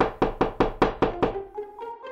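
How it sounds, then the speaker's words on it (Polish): Six sharp knocks on a door in a Polish radio drama, evenly spaced and close, followed by fainter lighter taps as the knocking trails off. "Aż pewnego razu do drzwi starego stryja ktoś zapukał"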